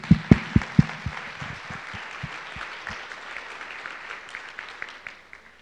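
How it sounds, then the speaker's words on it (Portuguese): Applause for José Luiz at a catalogue launch talk, opening with a few sharp nearby claps before a modest audience joins in and the clapping gradually thins out. "Acho que até valei umas palmas para o José Luiz"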